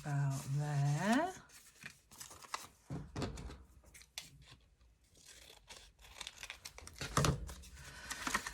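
Scissors cutting paper on a desk, a series of short snips and crinkly rustles close by, with someone talking at the start over the cutting.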